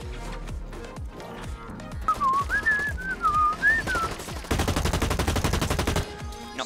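Gunfire from the first-person shooter game Blacklight: Retribution, with scattered shots early, a whistling tone in the middle, then a sustained dense burst of rapid automatic fire before it cuts off.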